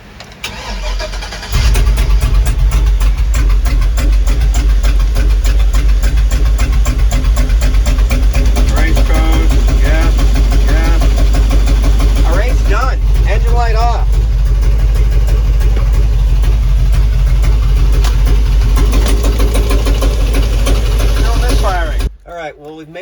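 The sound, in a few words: 2004 Chevy 6.0 engine idling and misfiring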